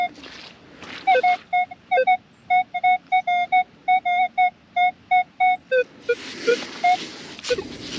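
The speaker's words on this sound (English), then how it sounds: "the high tones that you get, that people talk about with their detectors" A metal detector sweeps over an old 1700s homesite and emits a rapid series of short, high electronic beeps in a steady rhythm, close and clear, with some faint background noise.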